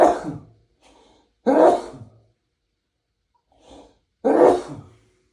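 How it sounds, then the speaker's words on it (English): A person sneezes three times at short intervals, each a sharp, loud burst close to the microphone, with softer breathy sounds between them in an otherwise quiet room. "Sneezing."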